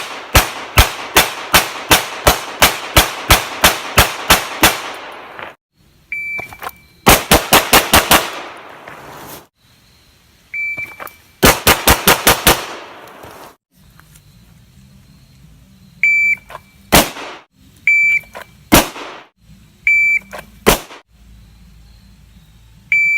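Gunfire rings out in sharp, loud bursts: a rapid string of about a dozen evenly spaced shots, then several short rapid volleys, then a few single reports spread apart over a quiet background with faint beeps.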